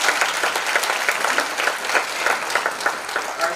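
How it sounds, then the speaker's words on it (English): Audience applause for sponsors at a Mercy Manor event, a steady crowd of many hands clapping alone at moderate level, dense and continuous throughout. "All right, let's give them a round of applause."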